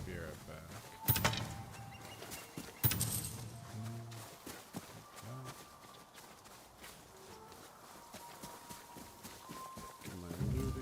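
Horse hooves clop in the video game Ghost of Yotei, a series of footfalls with two sharp louder impacts early on, settling into quieter irregular steps amid faint ambient sounds.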